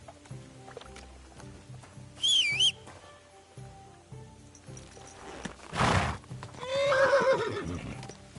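In a video game, a horse whinnies in sharp wavering cries while hooves clop in a light steady rhythm, with a breathy snort and another drawn-out neigh near the end over faint background ambience.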